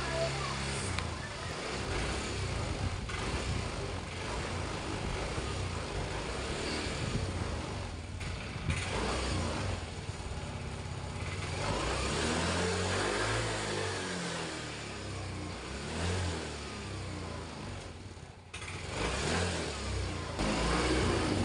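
A Yamaha Mio i 125 scooter engine runs roughly and keeps cutting out, sputtering unevenly at close range for a long stretch with steady broadband noise.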